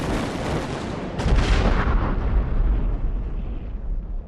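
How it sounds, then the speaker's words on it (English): Massed artillery guns boom together in a heavy barrage, one loud deep blast rising after a second and rumbling away with a long fading tail. "On the night of June 12, 1999, more than 100 guns boomed together."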